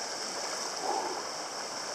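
Steady, even rush of spring water flowing continuously nearby, a smooth broadband hiss with no pauses.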